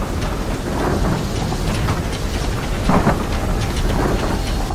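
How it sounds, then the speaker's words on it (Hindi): Thunder rumbling through a heavy storm with steady rain, a loud continuous roar with a stronger swell near the end and no voices. "उसी रात उमेश और पूनम उस भयानक गरज में एकदम शांति से सोते रहते हैं।"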